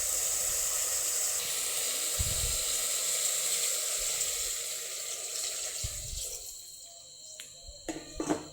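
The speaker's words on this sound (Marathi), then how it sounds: "त्यामध्ये आता आपण चिकन शिजण्यासाठी पाणी टाकू।" Water pours into a pan of sautéed, salted chicken with a steady, loud rushing hiss that eases and thins toward the end, followed by a few soft knocks.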